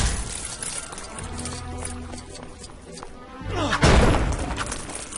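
Objects smashing apart in Lego Lord of the Rings, in the Prancing Pony level, heard as a series of thuds and clattering breaks with a loud crash near the end over game music.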